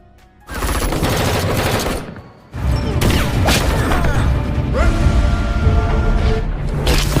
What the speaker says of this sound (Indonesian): baku tembak pun tidak terelakkan